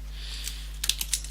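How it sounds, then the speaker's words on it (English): A computer keyboard typed on while writing C++ code in a programming lesson: a few quick, light key clicks in a short burst over a steady low electrical hum, close and alone. "And now I could just type in cout here, and I can type in"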